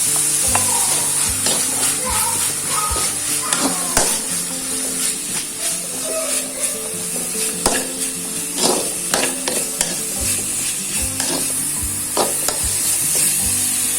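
Sliced carrot and cabbage stir-fried in a hot pan for nasi goreng, with a steady loud sizzle broken by repeated scraping and clacking stirs throughout and no talking.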